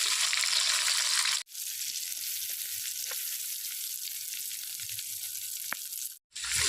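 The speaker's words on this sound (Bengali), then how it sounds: "এখন আমি গরম মশলাগুলো গরম তেলের উপর দিয়ে দিয়েছি।" Whole spices sizzle and crackle in hot oil in a pan as they fry for a goat curry, a steady close hiss with scattered pops, cut off briefly twice.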